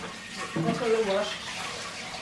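Food is washed under running water from a tap, a steady close splashing rush that swells briefly midway, with a voice talking over it.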